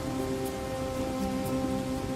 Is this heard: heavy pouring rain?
yes